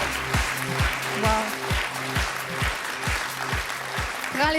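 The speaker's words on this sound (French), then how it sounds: "Prends les applaudissements, ils sont pour toi." Applause from a reality-show audience welcoming an evicted contestant, a steady clapping bed under a loud rhythmic pulsing music beat, with a voice briefly heard near the end.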